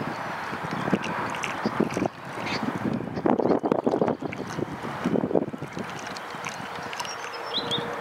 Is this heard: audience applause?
no